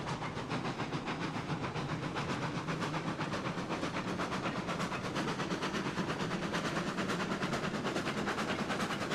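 A steam locomotive in the railway game Railroads Online picks up speed after its reverser is changed, giving a steady, loud stream of fast rhythmic chuffs over a constant hiss, with no voices.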